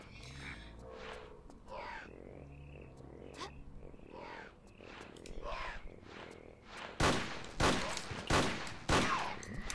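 Revolver pistol shots ring out in a Tomb Raider custom level game, several loud sharp cracks spaced apart near the end, after quieter in-game sounds and scattered thuds.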